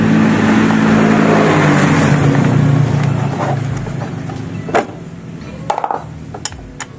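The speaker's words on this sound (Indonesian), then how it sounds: "suara ngencringnya ini berasal dari ini granat atau gear penghubung starter, dinamo starter dengan" Honda Beat carbureted motorcycle engine idling with a rattle from the starter gear linking the starter motor, a loud rough rumble that fades to a lower idle with scattered metallic clicks and knocks near the end.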